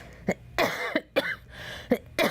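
Someone coughs repeatedly, in a string of sharp, harsh bursts close to the microphone with brief breaths between them.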